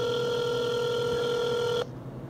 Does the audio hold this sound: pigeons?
no